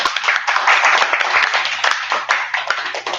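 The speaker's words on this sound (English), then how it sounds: "let's use a big applause to thank to our speaker tonight" Applause from an audience at a club meeting, a dense, steady patter of many hands clapping close by for about three seconds.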